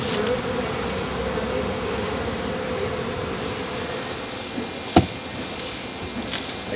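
Honey bees buzz steadily as a hive is closed up after an inspection during a poor honey flow, a continuous close drone with a brief knock near the end.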